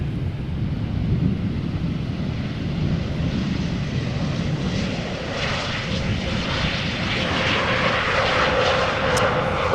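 German Airways Embraer 190 jet engines at Amsterdam Schiphol Airport, a steady, loud broadband roar with wind buffeting, rising slightly in intensity toward the end as the aircraft moves.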